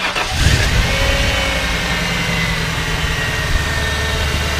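A 1997 Ford F-250 XLT heavy-duty pickup cranks and fires up near the start, then settles into a steady, loud idle that rumbles on without talk.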